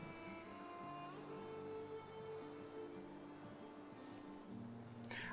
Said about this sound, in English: I'd like to wait for it to stop raining so the stamina regeneration wouldn't be too bad